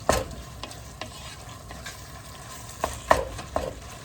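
Ground beef browning in a pot for chili gives a low, constant sizzle, with a few scattered scrapes and knocks of a spoon against the pot, the loudest cluster near the end.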